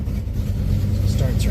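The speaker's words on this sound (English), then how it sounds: "Alright, we'll start it up. You can get a sense for what a cold start." A 1972 Plymouth Roadrunner engine turning over on a cold start, a loud close low rumble that holds steady through the short burst.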